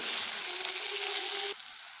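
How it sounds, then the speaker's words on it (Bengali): Salted pumpkin pieces frying in oil over a medium-high flame give a loud, close, continuous sizzle that drops off sharply near the end. "কুমড়োগুলোকে বেশ ভালোভাবে মিডিয়াম হিটে আমি ভেজে নেব"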